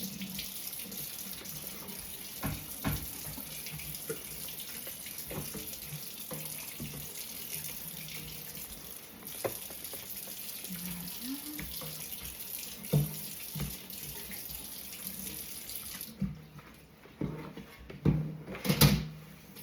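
Tap water runs steadily into a kitchen sink while small mats are washed, with soft splashing and occasional knocks and clatters, fairly quiet and close.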